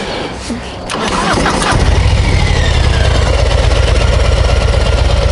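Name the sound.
Harley-Davidson Low Rider motorcycle engine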